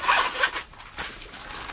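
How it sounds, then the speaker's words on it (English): A zipper on a Naked Cow Traveler's Notebook cover is pulled in a couple of quick, close, crisp zips with a short pause between them, heard alone. "there's a zipper with some more pockets"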